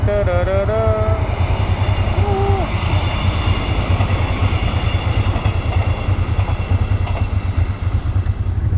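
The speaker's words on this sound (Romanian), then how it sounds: "Here comes the train." A train passing a level crossing with a barrier in Italy: a loud, steady, broadband rumble fills the whole stretch, with brief horn-like tones near the start.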